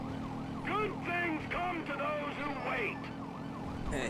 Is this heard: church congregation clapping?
no